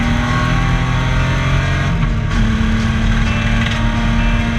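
Historic race car engine misfiring after blowing an ignition coil at a Baskerville Historics race meeting, a loud, close, rough and uneven drone with a stuttering beat as the driver holds it on the throttle.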